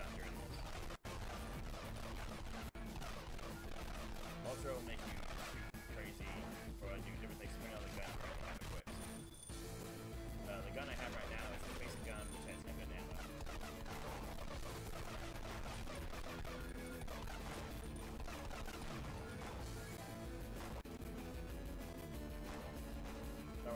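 Weapon gunfire in the video game Dragon Bros, with dense rapid bursts of shots layered over busy game music and effects that run without pause throughout.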